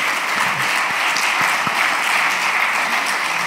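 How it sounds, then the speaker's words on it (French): A festival audience applauds steadily to welcome actress Juliette Binoche on stage, dense continuous clapping filling the hall at full volume without letup. "Madame Juliette Binoche, que je vous prie d'applaudir et d'accueillir."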